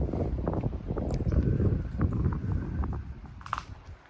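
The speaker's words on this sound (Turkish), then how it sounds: "Bayağı rüzgar da çıktı." Gusty wind rumbles and buffets the microphone continuously outdoors while pigeons fly, strongest in the middle and easing toward the end.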